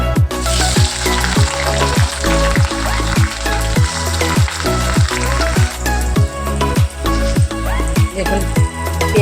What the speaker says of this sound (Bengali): দেখুন পেঁয়াজটা ভাজা ভাজা হয়ে এসছে।